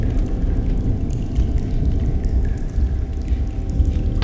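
Water pours and flows steadily in the video game Among the Sleep, a dense low rushing wash that stays fairly loud throughout without pause.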